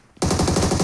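Loud, rapid automatic gunfire from PUBG Mobile starts abruptly after a moment of quiet and keeps a steady rattling rhythm to the end.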